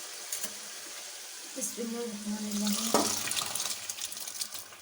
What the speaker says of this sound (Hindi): अब मैं इसके अंदर दाल ऐड कर रही हूँ।